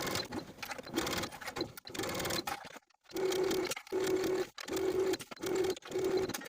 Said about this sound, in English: Then we can sew all around the neckline with a 5/8 inch seam allowance.